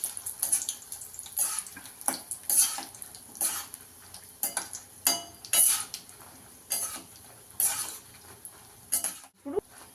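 Dried red chilies stirred in a pan with the stove off for a coconut chutney: light metallic scrapes and clinks of a spoon against the pan, repeated in irregular bursts, close and fairly clear, with no talking.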